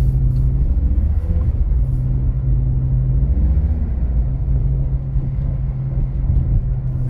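A BMW drifting on snow in a racing game, its engine droning steadily with a continuous low rumble and mild rises in revs, loud and unbroken throughout.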